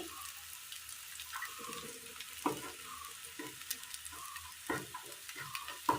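Cloves, cinnamon and ground coriander, chilli and turmeric sizzle in oil for a Kerala curry while a spoon stirs them, a steady fry broken by soft scrapes and clinks against the pan, with no voices.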